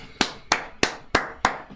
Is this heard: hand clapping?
yes